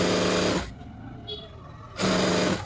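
Electric sewing machine stitching pieces of a frilled frock together, a steady close whirring burst at the start and again at the end, with a quieter pause in between.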